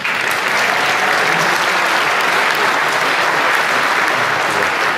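An audience of UK dealers at a Ford Go Further event applauds steadily. The dense clapping stays at a constant level for the whole stretch, with no one speaking over it.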